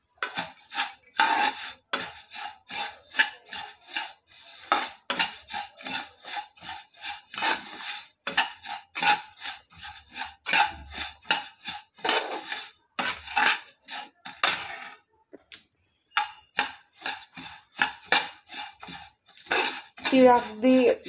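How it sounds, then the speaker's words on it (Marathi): Sesame seeds dry roasting in a pan over low heat, stirred with a utensil that scrapes and rasps against the metal in quick, rhythmic strokes with brief pauses, close and fairly clear. "तीळ पण आपल्याला मंद आचेवरतीच भाजून घ्यायचे आहेत"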